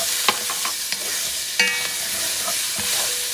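Squashed garlic cloves sizzling in a hot pan for Jamaican-style oxtails, a constant frying hiss broken by a few sharp scrapes and clicks of stirring.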